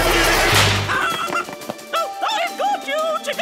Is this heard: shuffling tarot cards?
no